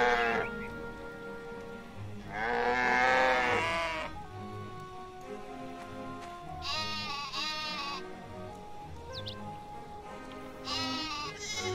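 Sheep in the farming game My Time at Portia bleat in several loud, wavering calls, with some overlapping, over a steady patter like rain and background game ambience.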